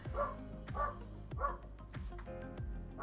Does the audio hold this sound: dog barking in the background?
yes